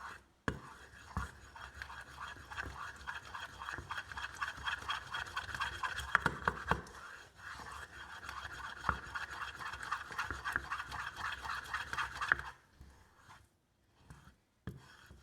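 A spoon stirs a sticky, slime-like homemade bioplastic mixture, giving steady close scraping and squelching rubs with small clicks that run continuously for about twelve seconds, then stop.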